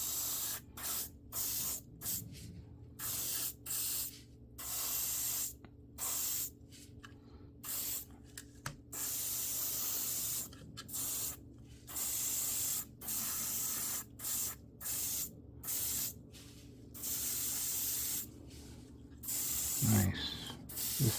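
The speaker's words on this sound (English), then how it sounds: "Might as well also paint the airbrush the stand as well." A Gaahleri Ace GHAC-98D airbrush sprays paint in short repeated bursts of hiss, each lasting about a second, separated by brief silent gaps, close and fairly quiet.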